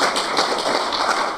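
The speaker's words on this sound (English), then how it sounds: "I want to round of applause for Novino." Audience applause at the end of a WikidataCon 2019 conference talk, a brief dense burst of many hands clapping together, close and fairly loud.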